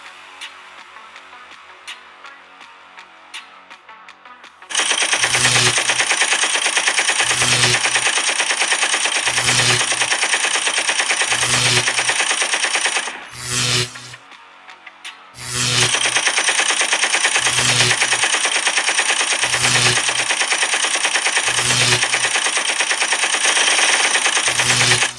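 Animated Lego gunmen fire guns in long, loud, sustained automatic bursts with a steady rapid rhythm, briefly pausing once before the heavy shooting resumes.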